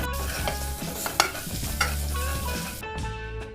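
Turmeric and asafoetida are stirred into hot oil in a pan for cabbage kootu, giving a steady close sizzle with scraping stirring strokes and no talk.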